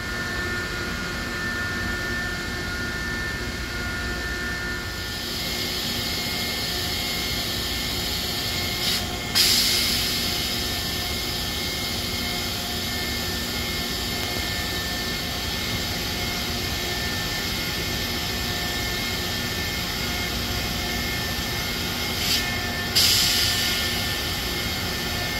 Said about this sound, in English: that's the hottest train on the rails